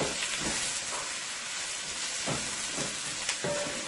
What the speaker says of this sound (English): those are my seasoning that's cooking up nicely into the oil there